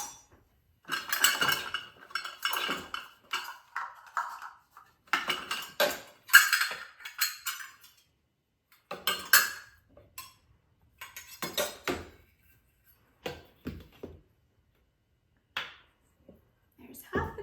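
Flour is scooped with metal measuring cups for a sourdough loaf, giving scattered clinks, taps and scrapes in irregular bursts with quiet gaps between them.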